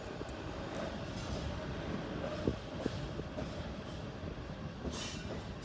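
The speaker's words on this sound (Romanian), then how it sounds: "Ce tren lung." A long train rolls steadily through a Romanian railway station at Severin, its broad rumble constant throughout, with a few sharp wheel clicks and faint squeals rising from the steady roar at moderate distance.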